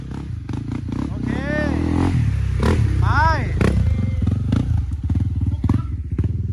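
An off-road motorcycle revs hard as it climbs the last hill on a muddy rainy-season trail. The engine note rises and falls up close, with clattering and thumps, while voices shout over it.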